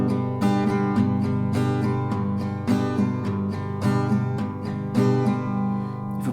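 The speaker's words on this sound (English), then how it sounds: "then it will be just basically down, up, down, up." An acoustic guitar strums chords in a steady down-up rhythm, each stroke crisp and evenly spaced, with no voices.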